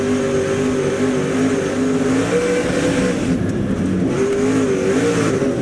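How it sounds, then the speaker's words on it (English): Dirt race cars at Eldora in the SRX series revving hard, with the throttle worked on and off so the engine note rises and falls over a loud, steady racing roar and no voices. "Fun to listen to Tony work the throttle there too, right?"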